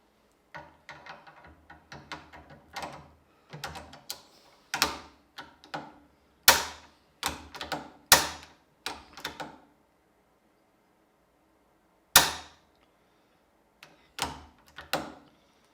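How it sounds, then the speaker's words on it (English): Sharp metallic clacks and ratcheting clicks come from a rifle bolt being cycled by hand during trigger and barrel maintenance, arriving in irregular close bursts with short pauses and a longer gap before a final few clicks. "Now let me get my bolt. That'll help so I can cycle it a couple times."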